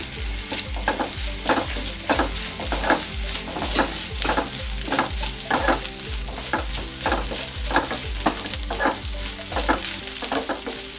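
Curry leaves, onion and chillies frying in a pan, a continuous crackling sizzle broken by regular scraping strokes of a spoon stirring, close and steady with no talking.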